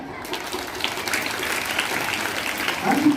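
A room of girls at a high school celebration clap together in a steady, fairly loud round of applause, a dense patter that continues throughout with faint voices beneath.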